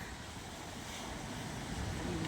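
Ocean surf at Kudle beach near Om beach gives a faint, distant wash of waves and wind, soft and continuous, with no voices.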